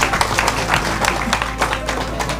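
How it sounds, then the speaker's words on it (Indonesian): Brief, scattered clapping from an audience at a talk, with individual claps standing out sharply over a steady low hum; a few people clap unevenly for a couple of seconds. "Sip, tepuk tangan."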